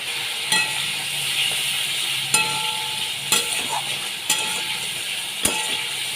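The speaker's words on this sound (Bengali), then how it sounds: "মাছ আমি ভালো করে ভেজে নিচ্ছি" Prawns frying in hot oil in a pan, a steady close sizzle with occasional sharp stirring scrapes and clatters, no talking.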